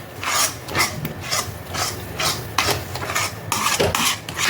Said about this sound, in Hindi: यहाँ पर मैं इसमें थोड़ा सा ये भुना हुआ डेसिकेटेड कोकोनट है वो मैं मिक्स कर रही हूँ